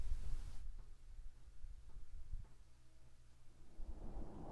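Distant rumbling thunder from a radiation storm in the video game Fallout 4, a low heavy roll that fades into quieter intermittent rumbles, soft and far-off with no one speaking.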